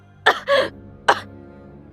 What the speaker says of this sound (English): You're coughing up blood.